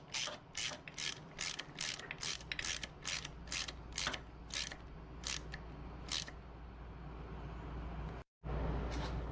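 A winch drum winding rope in after the set screw is refitted gives a fast run of sharp ratcheting clicks that slows and spaces out, over a steady low mechanical hum, with a brief dropout near the end.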